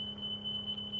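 A fire alarm sounds indoors as a steady, shrill electronic tone held without a break, moderately loud, over a low background hum and no voices.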